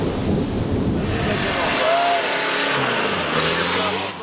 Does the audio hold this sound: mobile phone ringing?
no